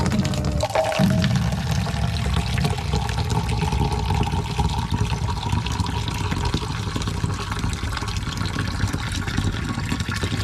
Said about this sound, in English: What I will do next is to get some water and put it there.